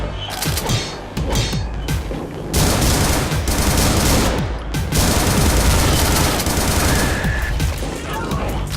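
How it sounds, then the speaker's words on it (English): Assault rifle fire in a side-scrolling action video game, rapid automatic bursts that keep going with brief pauses, loud and close, over game effects. "Yes! Assault rifle."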